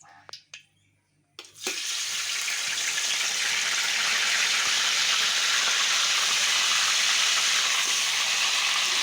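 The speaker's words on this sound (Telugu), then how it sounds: "ఇప్పుడు మనం ఇందాక చెప్పినటువంటి ఈ మసాలా మిశ్రమాన్ని ఇదే ఆయిల్లో యాడ్ చేసుకుందాం" Masala mixture for paneer masala curry hits hot oil after a few soft knocks, bursting into a loud, sustained close sizzle that holds steady for several seconds with no voice over it.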